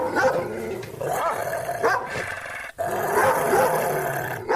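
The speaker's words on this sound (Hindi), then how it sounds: "उन पर भौंकने लगता है।" A dog barks in short bursts over a noisy, busy background, fairly close and loud.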